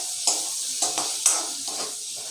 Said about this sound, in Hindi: और इसे मैं मिक्स कर लेती हूँ।